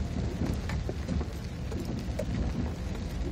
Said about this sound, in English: There's so much hail.